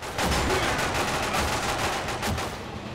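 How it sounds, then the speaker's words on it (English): Shotgun fire in 007 Quantum of Solace, a steady run of loud, rapid blasts that keeps up for nearly three seconds with no gaps for speech. "My god, this shotgun is so powerful"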